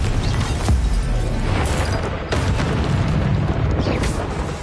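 A Confringo spell detonates in a wizard video game: a dense, loud blast with sharp crackling bursts and booms recurring across a continuous rumbling roar of spell effects.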